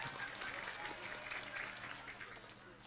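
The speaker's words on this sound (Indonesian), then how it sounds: "tepuk tangan dong buat Poltek" Faint, steady applause from an audience rises during an interactive community dialogue with the mayor of Tegal in Pesurungan Kidul, a soft continuous wash of clapping that holds evenly for about three seconds.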